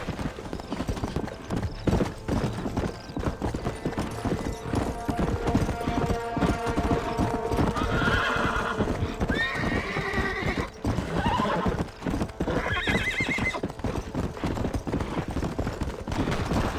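A horse gallops and neighs in Red Dead Redemption, rapid steady hoofbeats pounding throughout with several whinnies rising over them midway, set against in-game ambience.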